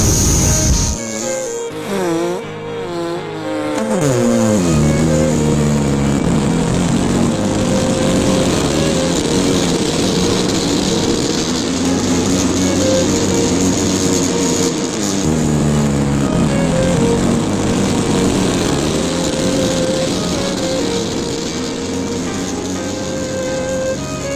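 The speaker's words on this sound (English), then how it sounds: "Three, two, one. We have ignition." A Blue Origin rocket ignites and lifts off with a sudden swelling roar that settles into a sustained, loud rumbling thunder with crackle and hiss, continuous for over twenty seconds.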